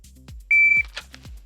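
A shot timer gives a single sharp electronic start beep at a USPSA shooting run on a Texas Star target, loud and steady for about a third of a second, amid quieter rhythmic thumps and clicks, with no talking.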